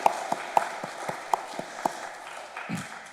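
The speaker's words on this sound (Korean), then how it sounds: "박수로 응원 한번 부탁드리겠습니다" A church congregation at a Sabbath school gathering claps in a sparse, uneven scatter, a handful of sharp individual claps spaced apart before it tapers off, with no talking.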